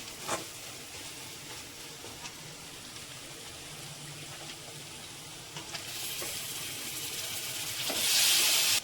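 Mutton being added to onions frying in a pan, with a steady close-up sizzle and hiss that swells louder toward the end as the meat hits the hot oil.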